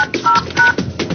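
Telephone keypad DTMF tones beep in quick succession while a number is entered into a cell phone voicemail system, the short tones sitting loudly over line noise and clutter.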